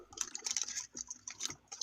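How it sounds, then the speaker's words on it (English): Rapid clicking of computer keyboard keys in irregular bursts, close and fairly quiet, with no voices. "You hear me typing?"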